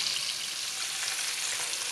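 Fish fries in hot oil in a pan, giving a steady, close, loud sizzle with fine crackling that continues without a break and with no voices over it.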